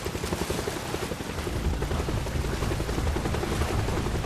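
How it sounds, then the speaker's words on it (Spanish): A loud, steady helicopter rotor thumping close by, a continuous rumbling chop filling the whole clip with no voices. "Oímos el fuerte sonido de un helicóptero."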